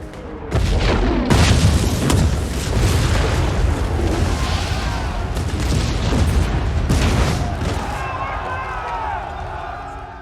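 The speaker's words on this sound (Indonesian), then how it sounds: "bom pun berhasil dijatuhkan tepat sasaran mengenai sebagian pasukan Taliban" Bomb explosion from the war film 12 Strong, a heavy rumbling blast that opens abruptly and rolls on loudly for several seconds with crackling debris, slowly fading near the end.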